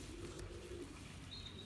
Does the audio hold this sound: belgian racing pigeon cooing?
yes